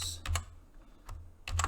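Keys clatter on a computer keyboard in short quick bursts separated by pauses, close and fairly quiet, with no voices.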